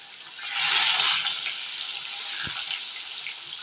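Fish frying in hot oil in a pan over a low flame, a steady close hiss and sizzle that swells briefly and then settles into an even crackle with one soft knock.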